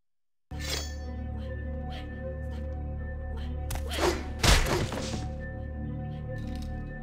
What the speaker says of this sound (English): Sneak attacks with a fire axe.